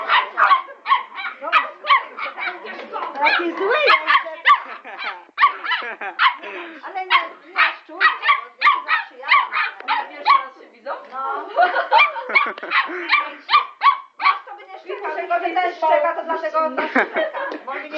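Two dogs, a male and a female, bark and whimper in repeated yelps while people nearby talk and chuckle throughout.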